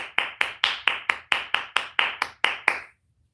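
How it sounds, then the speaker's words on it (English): Hands clap ten times in an even rhythm, sharp and close, each clap ringing briefly, then the sound stops into near silence. "Clap it up for Mana."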